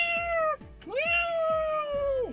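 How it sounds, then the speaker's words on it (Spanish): A cat meows twice in long, drawn-out, falling cries, the second one stretched and wavering, with soft repeated sounds underneath. "y un gato maullaba a lo lejos"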